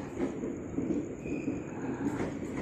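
A Tokyo Metro 6000 series commuter train arriving at Depok station at night: a steady rumble of wheels and rolling carriages, with faint high squeal, moderately near and continuous, with no talking.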